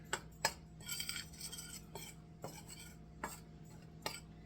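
A utensil scrapes and clinks against a mixing bowl while stirring oatmeal chocolate chip cookie dough, irregular taps and scraping strokes, close and quiet, with no talking.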